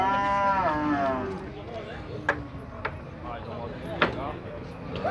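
Cattle low with long harmonic moos at a livestock fair in Tabira, Pernambuco, one drawn-out call up front and shorter ones later, amid sharp knocks, clatter and crowd noise.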